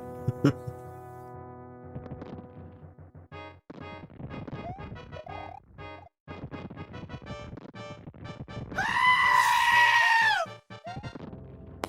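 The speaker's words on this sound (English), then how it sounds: "I think the goat said Scream." A goat lets out a loud, wavering bleat near the end, heard alongside game music and someone talking over a livestream playing a Mario Bros 3 game.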